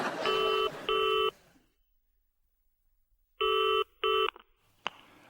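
A telephone rings with electronic warbling tones, two short bursts, a gap of silence, then two more bursts and a brief click, fairly loud and alone without speech.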